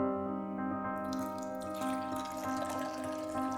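Water runs from a tap into a sink, a continuous splashing stream over a steady tonal hum, moderately close and with no talking.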